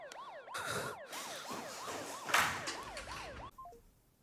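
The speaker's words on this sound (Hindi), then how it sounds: "एम्बुलेंस आ गई है" An ambulance siren wails close by in a rising and falling electronic yelp, repeating steadily for about three seconds before cutting off abruptly, followed by a brief descending beep.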